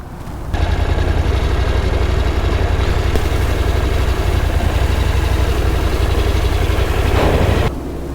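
A ferry crossing a ship channel on the Louisiana Loop idles with a steady, loud low engine rumble that holds even for several seconds and stops abruptly near the end.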